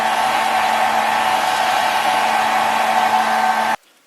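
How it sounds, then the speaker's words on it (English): A hair dryer drying special-effects makeup and fake blood blows with a steady, loud whooshing hum for several seconds, then cuts off abruptly into near silence. "To dry everything, I will use my hairdryer because it is the fast way."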